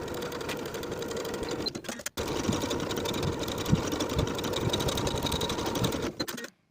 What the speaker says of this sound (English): I'll sew the underarm seam with a 3/8 inch seam allowance and finish the raw edges together.